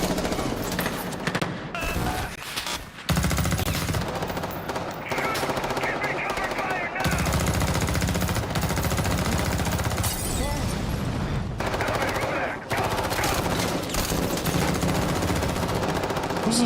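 Video game gunfire in a Tarkov-like shooter: dense automatic bursts and single shots keep going almost nonstop, loud and close, with players talking over the fighting.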